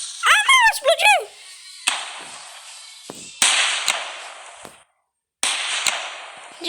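Fireworks bursting in a fireworks video game, sharp crackling explosions with hissing tails repeating in separate bursts, after a whistling rising sound at the start.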